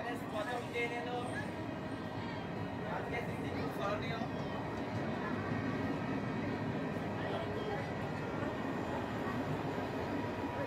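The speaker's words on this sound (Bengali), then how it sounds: "গোপীনাথপুর স্টেশনে প্রথম ট্রেন চলে এলো।" A train pulling into newly opened Baragopinathpur railway station, a steady rumbling roll with a loud crowd talking over it throughout.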